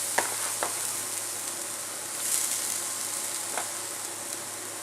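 Grated coconut is stirred into a spice mix sizzling in a pan for chicken thoran, with a steady frying hiss and a few sharp scrapes and taps of the spoon against the pan.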